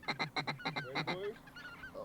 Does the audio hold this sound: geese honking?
yes